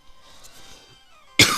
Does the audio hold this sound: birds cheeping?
no